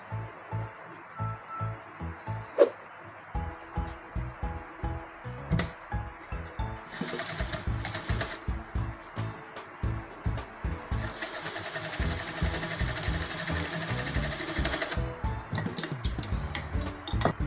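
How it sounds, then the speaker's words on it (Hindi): A sewing machine stitches fabric for a handmade flower, running in rapid rhythmic bursts of clattering needle strokes that stop and restart, then settle into longer continuous runs, close and moderately loud. "सीधा करके उसी साइड हम सिलाई करेंगे।"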